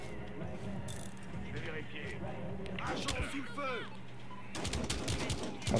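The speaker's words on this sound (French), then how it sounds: "Ça y est, les coups de feu vont commencer." Battlefield Hardline video game gunfire: scattered bursts of shots and automatic fire crackle at moderate level beneath someone talking in French, with other game noises mixed in.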